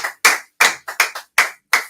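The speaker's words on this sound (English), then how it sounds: "Everybody give him a round of applause." Hand claps welcoming a guest onto a music talk show: seven sharp, close claps in an uneven rhythm with short silences between them, sounding more like a single pair of hands than a full crowd.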